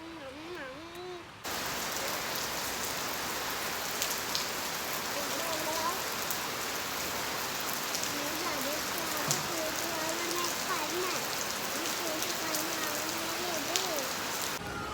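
Steady rain falling and pattering on surfaces, a dense continuous hiss throughout after a brief quieter opening, with a soft voice audible underneath.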